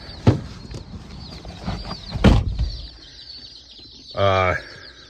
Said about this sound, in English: Oh, it's a whole lot of chicks.